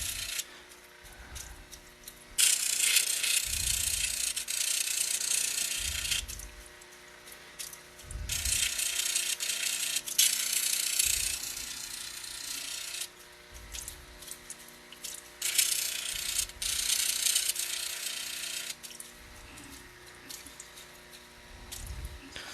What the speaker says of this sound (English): I can take it on to the 600 grit soft wheel, and moving in a fast motion